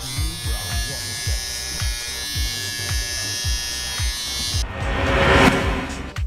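An electric shaver for men buzzes steadily with a pulsing rhythm, loud and close, and then shifts to a brighter, noisier drone near the end.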